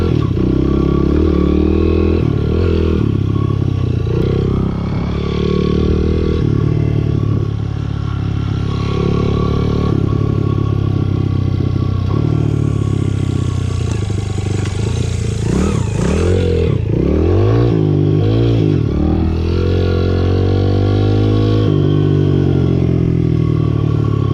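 A Honda CRF 100F dirt bike engine revs and bogs in uneven bursts close by, with rising throttle pulls and clattering mechanical noise, as a rider practises wheelies.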